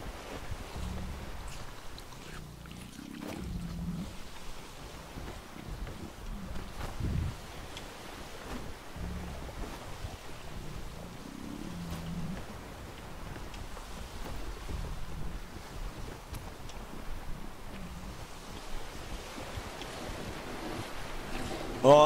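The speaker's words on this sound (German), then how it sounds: "Oh, der Wind wird immer weniger." Steady wind and lapping ocean waves around a sailing ship in the video game ATLAS, a continuous moderate wash of water and gusty air with soft creaks, no clear speech.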